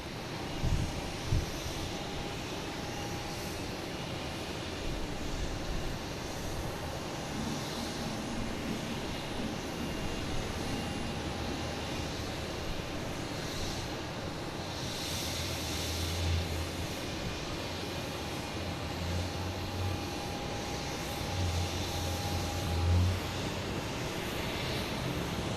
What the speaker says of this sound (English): All right, we get the Porter taking off.